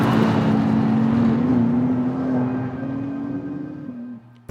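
Engine note of a BMW M3 CS Touring heard from inside the cabin, a steady mechanical drone that slowly rises in pitch as the car pulls, then eases off near the end.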